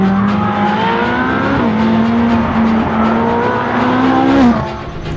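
Ferrari 458 Speciale engine revs hard and accelerates, a loud, close, continuous high-pitched wail rising in pitch over several gear pulls, with no talking.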